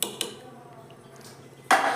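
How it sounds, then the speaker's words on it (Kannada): A pressure cooker lid is closed in a home kitchen, producing a few sharp metallic clanks at the start and the end, with quiet between them. "ಈಗ ನೋಡಿ ನಾನು ಕುಕ್ಕರ್ನ ಲಿಡ್ನ ಕ್ಲೋಸ್ ಮಾಡ್ತಿದ್ದೀನಿ."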